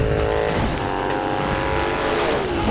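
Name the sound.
Indian motorcycle slowly picking up speed in a film scene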